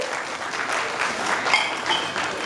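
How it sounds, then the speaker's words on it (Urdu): Audience at an Initiate Pakistan talk clapping in a steady, even wash of many hands, moderately loud throughout with no break. "یہ تالیاں کھل کے بھی بجائی جا سکتی ہے اگر دل میں اتر گئی ہے بات تو"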